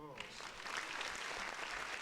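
A round of applause rises among a small group during a casual podcast conversation, with clapping building and thickening after a voice briefly trails off at the start.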